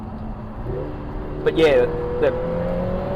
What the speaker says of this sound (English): just accelerated hard up an uphill bumpy section